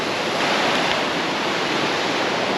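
Mountain stream in Sapa, Vietnam, rushing steadily with a loud, continuous broadband wash of flowing water close by, no voices.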